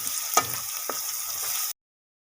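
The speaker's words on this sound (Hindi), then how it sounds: "तो इसमें लहसुन अदरक का पेस्ट शामिल करेंगे। बिस्मिल्लाह। इसको मज़ीद 2 मिनट और भून लेंगे।" Garlic ginger paste frying with lightly browned onions for a chicken karahi, a steady close broadband sizzle with a few sharp stirring clinks, ending abruptly after under two seconds.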